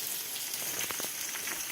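Chicken frying in a pan, a steady close hiss and sizzle with small crackling pops, no talking.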